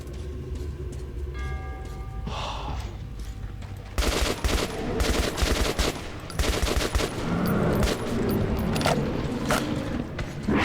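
Rapid gunfire from a first-person shooter set in the Moscow metro, Metro 2033: bursts of automatic shots over continuous game background noise, growing denser and louder after the first few seconds.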